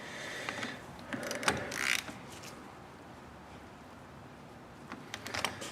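Small mechanical clicks and ratchet-like turns from tightening the negative battery terminal on a Toyota Highlander, a few close, light bursts near the start and again at the end with quieter stretches between.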